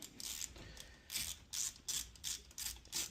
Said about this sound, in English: I'm gonna take the compression bolt out of the chain ring.